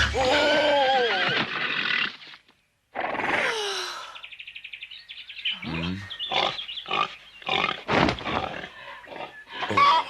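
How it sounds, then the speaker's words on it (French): An animated cartoon pig squeals and grunts loudly, with a long cry followed by a string of short, choppy squeals and snorts and a brief silent gap between the bursts. "C'est un de nos cochons."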